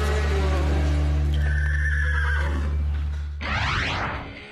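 A horse at a horse show gives a loud, close neigh that rises and then trails off into a breathy snort, with a low steady hum behind it.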